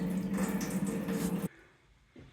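Maple sap pours steadily from a warming pan into the main evaporator pan, a close, continuous splashing flow that stops abruptly, leaving a faint room tone.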